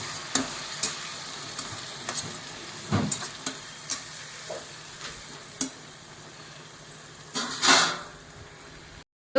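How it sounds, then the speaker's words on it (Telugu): Tomatoes and chilies fry in a pan over high flame, giving a continuous close sizzle broken by scraping, clicking stirs of a spoon against the pan. "సో ఇప్పుడు మనం దీన్ని హై ఫ్లేమ్లో పెట్టుకొని ఒకసారి కలుపుకుందాం."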